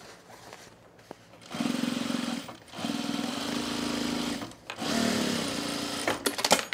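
A sewing machine stitches men's cargo shorts in short runs of steady mechanical whirring, stopping and starting a few times with brief quiet pauses and fabric handling between bursts.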